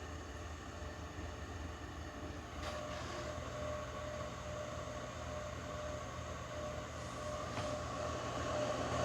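Two IceRiver Alephium crypto mining units run side by side, a steady, fairly quiet whir of fans and hum with a couple of faint clicks, no talking.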